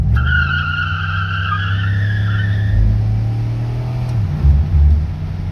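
An Impala SS with an LS4 V8 and a 4T65E automatic accelerating hard: loud engine roar with high tire squeal from wheelspin, then a distinct gear shift as the engine note drops and climbs again.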